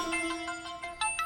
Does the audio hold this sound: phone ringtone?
yes